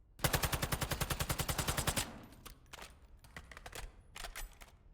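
Rapid automatic gunfire in a video game, a fast, even burst of about two dozen sharp shots lasting two seconds, then scattered, fainter single shots and short bursts.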